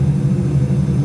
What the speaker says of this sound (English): we can hear the second engine